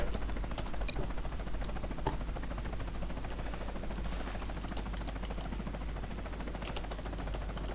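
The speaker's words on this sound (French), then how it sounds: "Pourquoi tirez pas sur l'hélico?" A continuous helicopter whir in the video game Garry's Mod, with rapid rotor chop, hums steadily throughout, with faint clicks scattered on top and no talking.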